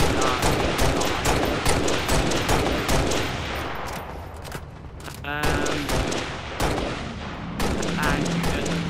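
Shooting at enemies in Halo Reach on Legendary difficulty brings dense, rapid gunfire, a near-continuous burst of shots with a brief lull midway before firing resumes.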